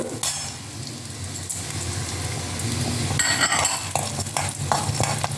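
Steady sizzling in a hot pan as coriander seeds, toor dal and dried red chillies roast, with occasional scraping stirs and light clinks of a utensil against metal.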